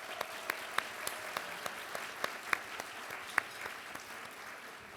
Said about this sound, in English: let's give a big round of applause for the fantastic wait staff at the Grand America today.